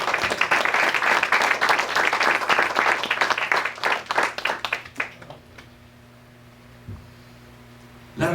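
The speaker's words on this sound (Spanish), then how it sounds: "Dale un aplauso al Señor" A church congregation claps for the Lord during a sermon, a loud dense burst of many hands that thins into scattered claps and fades out, leaving a faint hum before a brief noise at the end.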